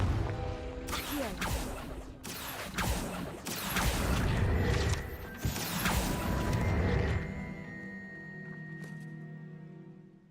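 The Accio summoning spell in Hogwarts Legacy pulls at objects with a run of loud mechanical clattering, creaks and crashing knocks that settles into a humming tone, close and busy, with no voices.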